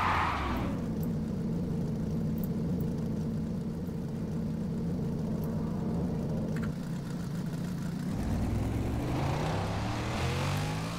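A car engine in the video game Need for Speed World idles with a steady low rumble, then revs up briefly near the end, close and continuous, no voices.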